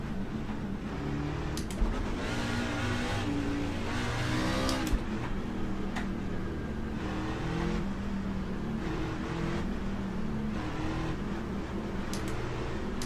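Racing truck engines roar in a sim racing game at Atlanta, a dense, steady drone of several nearby motors with rising and falling revs and harmonic bands, with occasional brief spikes, continuous and loud throughout with no talk.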